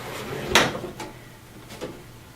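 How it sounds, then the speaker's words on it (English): A drawer is pulled open with a sharp clattering burst, then a few softer knocks and shuffles as its contents are rummaged through. No one speaks. "So I dug in my drawer"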